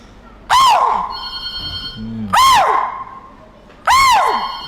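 A man imitates a chital deer call, giving three loud, sharp, high-pitched shrieks spaced about two seconds apart, with a brief low murmur between them.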